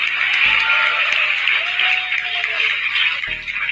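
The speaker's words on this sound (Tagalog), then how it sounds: "Pumalakpak yung mga uto-uto." A crowd applauds with dense, steady clapping throughout, loud and close, with a few voices and tonal sounds mixed into the background.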